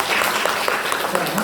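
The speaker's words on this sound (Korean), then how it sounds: "그런 뜻으로 박수 한번 더 해요." A congregation claps together during a Sunday morning church service, forming a dense, steady wash of applause that lasts the whole short stretch, with a faint voice underneath.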